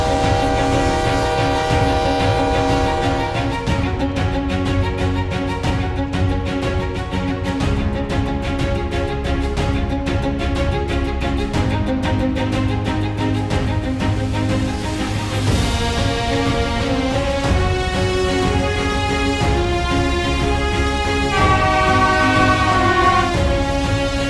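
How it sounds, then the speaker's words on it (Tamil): Chennai's first electric AC suburban EMU train runs with a loud, continuous rumble and tonal whine. Sustained horn-like tones rise and shift over it, with no talk. "சென்னையுடைய முதல் மின்சார ஏசி ரயில்ல தான் இப்ப நம்ம பயணிச்சுட்டு இருக்கோம்."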